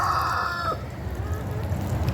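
Chickens cluck and a rooster crows close by on a small permaculture homestead where geese dug a pond, a loud crow-like call opening the clip before it settles into steady low farmyard noise.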